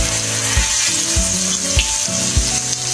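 Two bangda mackerel sizzling steadily in a hot frying pan, a continuous close crackle with repeated dull knocks as the fish is turned, and no talking.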